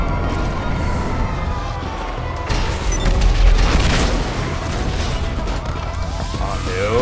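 Gunfire from armor piercing rounds in GTA Online, heard as heavy booming shots and crashes layered in a busy game mix, with a stronger burst midway and sustained noisy action around it.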